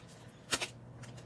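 Tarot cards being drawn and shuffled by hand for a card reading, heard as a short burst of two quick papery riffles close by, with no talking.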